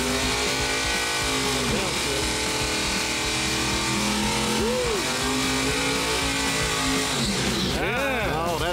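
A Mopar minivan makes a drag-strip timed pass, its engine revving in rising, sweeping pitches and winding through gears at close range, loud and constant, with some talk over it.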